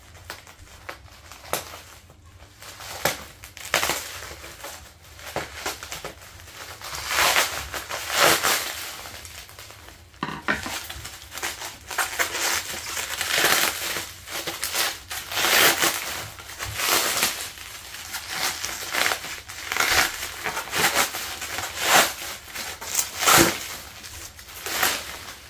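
A plastic bag crinkles and rustles close by, in steady irregular bursts, while daytime running lights for a 2023 BMW M240i are unpacked.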